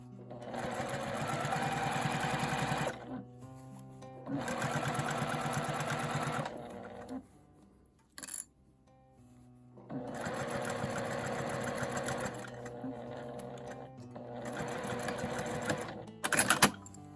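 A sewing machine stitches nubi quilted fabric, running in several steady bursts of a few seconds each with short pauses between them, close and fairly quiet, with no talking.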